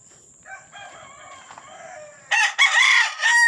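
A fighting rooster in a small backyard farm crows loudly and close by, a strained, wavering call rising after a stretch of softer clucking and calls from other fowl in the background.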